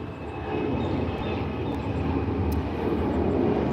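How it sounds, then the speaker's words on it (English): A steady, broad jet roar from an airplane flying overhead near Charleston International Airport, loud and continuous with no talk. "the planes fly out overhead"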